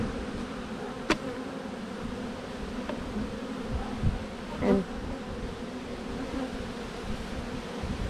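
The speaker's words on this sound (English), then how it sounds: "let these bees calm down." Steady, dense buzzing of many honeybees close by, with a few brief knocks and a short louder buzz passing near.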